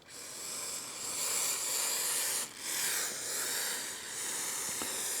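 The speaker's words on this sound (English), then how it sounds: "I'm just going to use some spray adhesive to put this on." Spray adhesive hisses from an aerosol can onto leather in a workshop, delivered in three or four sustained bursts separated by brief pauses, close and steady.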